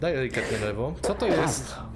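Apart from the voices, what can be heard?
No everyday noise stands out behind the speech.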